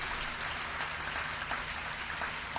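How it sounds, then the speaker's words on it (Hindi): An audience at a gathering in Chandigarh claps to welcome Swami Brahmarshi Kumar Swami, a steady mass of applause heard somewhat muffled and distant over a low hum, continuing evenly throughout. "जरा जोरदार तालियों के साथ इनका"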